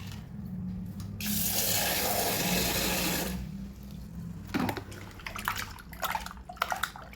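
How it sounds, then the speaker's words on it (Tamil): Running tap water pours steadily into a pot for a couple of seconds, then stops, followed by sloshing and light clattering. "திருப்பியும் தண்ணி பிடிச்சி"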